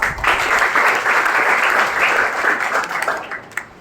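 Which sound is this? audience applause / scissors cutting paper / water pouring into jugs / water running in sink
audience applause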